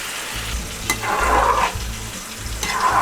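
Water poured into sizzling chicken liver curry in a pan sets off loud bursts of hissing that swell and fade, with stirring scrapes in between, close and without talk.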